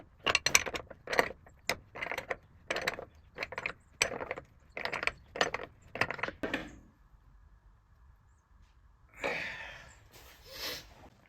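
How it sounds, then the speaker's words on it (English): A box end wrench tightens a bolt on a goat barn stall gate, giving a run of sharp metallic ratcheting clicks in even bursts. After a pause, a couple of softer scraping sounds follow, close and unaccompanied by talk. "You'll see there I'm using a box end wrench to tighten that bolt up."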